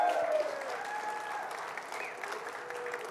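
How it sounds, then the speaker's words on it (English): Warm applause from a live audience, a steady wash of clapping that holds evenly, with faint murmurs and a brief whoop mixed in. "Guys, give her a big round of applause."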